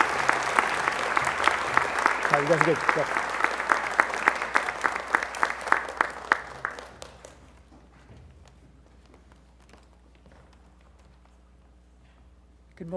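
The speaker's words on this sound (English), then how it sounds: "Now we can applaud." Audience applause at an academic honors day ceremony after a scholarship announcement, a loud steady clapping from a large crowd that fades out about halfway, with a voice speaking over it near the end.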